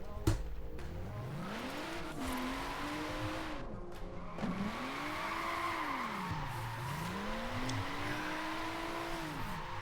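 Drifting car in Forza Horizon 4 spinning out, engine tone sweeping up and down in rising and falling arcs under continuous tyre squeal, loud and steady throughout with faint talk at times.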